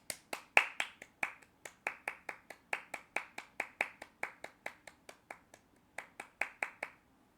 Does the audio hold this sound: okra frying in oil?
no